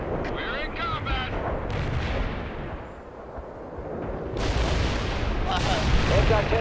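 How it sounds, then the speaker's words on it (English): Artillery barrages and gunfire in the World in Conflict strategy game rumble as a dense, continuous battlefield roar, swelling louder toward the end, with voices and radio chatter over the fighting. "Incoming fire!"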